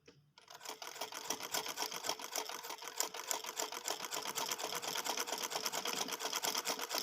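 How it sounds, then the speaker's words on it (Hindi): A sewing machine runs steadily while stitching around the neckline of a long frock, a fast, even mechanical chatter that starts after a brief quiet moment and continues without pause, close and moderately soft. "अब हम इसकी साइड पे सिलाई लगाते हैं, जहाँ पे ये चेप है इसके बिल्कुल किनारे पे हम सिलाई लगा देंगे सारे राउंड में।"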